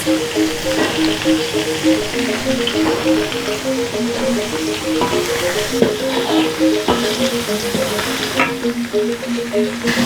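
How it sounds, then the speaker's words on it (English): Garlic fries in a pan for smoked skipjack tuna sambal, a steady close sizzle with light spattering and occasional stirring clicks. Soft melodic music plays underneath, and no one speaks. "So I cook the garlic until it's slightly golden brown."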